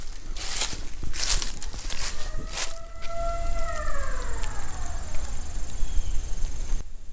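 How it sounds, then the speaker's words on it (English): A long, wailing siren blown to call cows slides and falls over several seconds outdoors on a farm, following a few soft thumps and rustles, with steady background noise. "Dad is blowing the siren right now."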